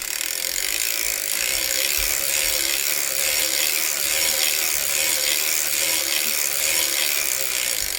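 Circular sock knitting machine cranked through about ten rows with the heel spring removed, giving a steady close clicking, ratcheting whir that runs without pause and without speech.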